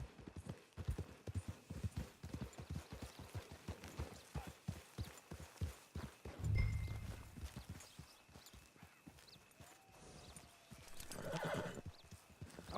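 Horse hooves clip-clopping in the video game Red Dead Redemption 2, a steady rhythm of close hoofbeats with a loud snort or whinny partway through and faint voices in the background.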